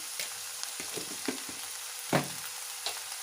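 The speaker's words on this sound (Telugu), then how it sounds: "బాగా మిక్స్ చేసుకుందామండి" Chopped onions with salt frying in a pan, stirred with a utensil: a close sizzle broken by several distinct scraping strokes, one louder clack near the middle, with no talking.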